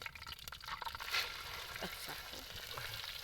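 Semolina roasts in ghee for halwa at a campsite, a soft steady frying hiss with faint stirring scrapes, fairly quiet and continuous.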